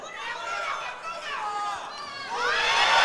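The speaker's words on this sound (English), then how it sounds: "She had a huge cheer of support from the Colombians in the stands" Colombian fans cheer and shout in the stands at the 2022 World Weightlifting Championships, women's 71 kg event; a loud, swelling crowd roar with high-pitched yells, rising further near the end.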